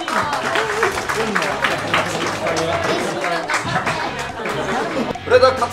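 Audience applause and crowd chatter at a Beyblade tournament stage as a competitor is called up, steady dense clapping mixed with voices throughout, swelling briefly near the end.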